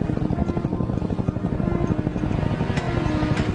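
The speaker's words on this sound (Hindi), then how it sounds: "हाँ, ये हेलीकॉप्टर है, देखो वो रहा।" A helicopter flying overhead in a dubbed action movie, a loud, steady rotor thrum with a continuous chopping pulse throughout, close and dominant with no speech.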